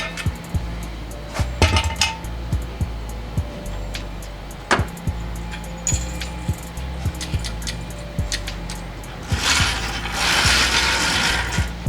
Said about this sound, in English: Now let's put the wheel back on and see how we did.